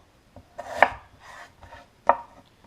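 A knife chops unpeeled potatoes into large squares for corned beef hash, giving two clear, firm thuds on a cutting board plus a few softer slicing sounds nearby.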